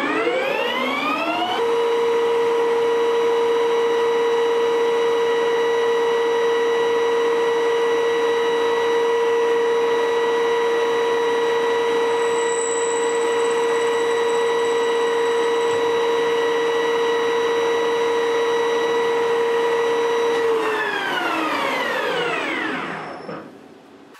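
A metal lathe turns with a brazed carbide cutting tool, giving a steady, sustained whine with strong tonal harmonics that hold for about twenty seconds before the spindle winds down near the end; no speech.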